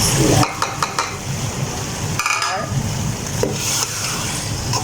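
Chicken sizzles in a pan while tomatoes and chili go in, with steady frying hiss, clinks of a utensil against the pan and a few sharper scrapes, recorded close.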